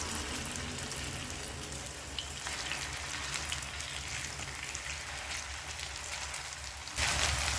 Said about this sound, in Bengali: এভাবে 5 থেকে 6 মিনিট ভাজলেই বড়াগুলো ভাজা হয়ে যাবে